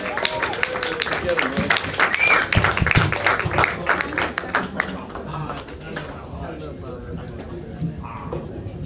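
An open mic comedy crowd at The Brew House Gallery applauds a comedian, dense clapping and cheering that thins and fades partway through as voices talk over it.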